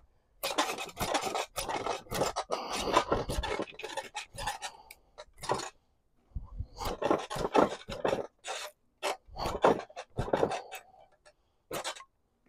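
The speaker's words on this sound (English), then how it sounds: "You could also use a draw knife to take down the flare, the edges here." A draw knife shaving the edges off a hickory bow stave, a series of rough rasping scrapes in short strokes separated by brief pauses, close and clear with no talk.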